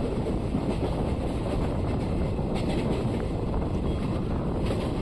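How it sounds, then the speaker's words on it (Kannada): The Chamundi Express rolls into Naganahalli railway station on a cool morning run from Mysore to Bangalore, a dense, steady rumbling roar heard close up with heavy wind buffeting and no voices. "ಟ್ರೈನ್ ಈಗ ನಾಗನಹಳ್ಳಿ ರೈಲ್ವೆ ಸ್ಟೇಷನ್ನ ಎಂಟ್ರಿ ಆಗ್ತಿದೆ"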